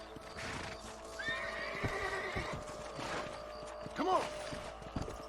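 A horse in the Western video game Red Dead Redemption whinnies twice, a brief call early and a louder, wavering neigh near the end, over steady clip-clopping hooves and a low outdoor background.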